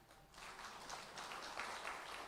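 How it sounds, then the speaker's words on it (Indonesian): A church congregation claps along after a sermon prompt, a soft, distant patter of applause that holds steady for a couple of seconds. "Tepuk tangan."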